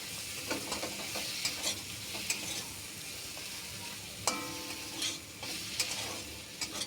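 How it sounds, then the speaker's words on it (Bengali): Kochur loti, taro stolons, frying in a pan with a paste of mustard and green chili plus chili powder, giving a steady close sizzle broken by scraping stirs and a sharper clatter partway through, with no voices. "সেই বাটা মশলাটা দিয়ে হাফ চামচ লঙ্কার গুঁড়ো দিয়ে আবারও ভালো করে কষিয়ে নেব"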